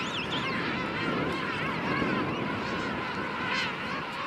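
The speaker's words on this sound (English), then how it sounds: "I keep trying to get audio of those of the birds making their joyous calls in" King penguins calling in the morning on South Georgia, a dense chorus of trumpeting, honking cries that overlap continuously, some close and some farther off, with no talking.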